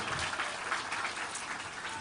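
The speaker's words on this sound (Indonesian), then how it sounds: "Tapi tepuk tangan dulu buat beliau nih Pak Mus." Audience at a campus gathering with students and lecturers applauding steadily, a moderately loud, even wash of clapping from a crowd indoors.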